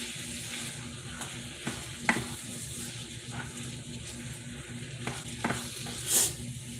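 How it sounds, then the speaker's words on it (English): Ground beef browning in a pan for stuffed peppers, a steady close sizzle and crackle with occasional stirring scrapes and a few sharper pops. "So we're browning the ground beef."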